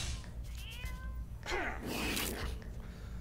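Cat meowing in the video game Fallout Shelter, a couple of short meows followed by a longer drawn-out yowl, moderately quiet over a low background hum.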